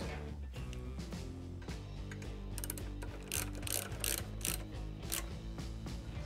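A hand ratchet tightens the bolts of a Gasbox tall chopper bolt-on sissy bar on a 2004-or-later Harley-Davidson, with a continuous run of close, rapid mechanical clicking and a few heavier pulls toward the end.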